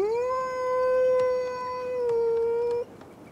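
In Assassin's Creed Valhalla, a wolf gives one long sustained howl, a smooth clear tone held for nearly three seconds before cutting off abruptly, loud and alone with no speech.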